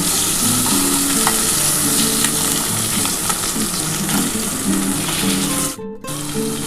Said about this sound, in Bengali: আমি কিন্তু আলু, টমেটো, পেঁয়াজ সব কিছু একসাথে ভাজছি